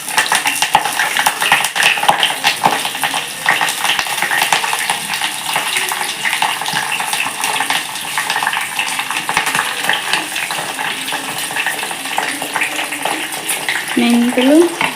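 Curry leaves, fenugreek seeds and spices drop into smoking-hot oil and fry with a loud, continuous crackling sizzle, with occasional utensil clinks against the pan.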